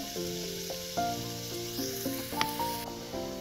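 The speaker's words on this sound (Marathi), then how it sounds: "कांदा छान भाजू देते, आपला कांदा छान भाजायला लागलाय।" Onion sizzling and frying in a pan, a steady close hiss under a layer of background music, with no speech.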